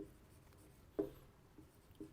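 Pen writing a chemical name on a board or paper, a few faint scratchy strokes with one sharper tap near the middle, under a quiet room hush.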